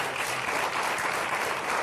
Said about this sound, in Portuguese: Um aplauso para ela.